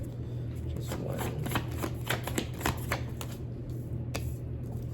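A deck of tarot cards is shuffled close by in a rapid run of soft riffling flicks over a low steady hum, quiet and without talk.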